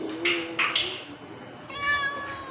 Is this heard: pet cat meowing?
yes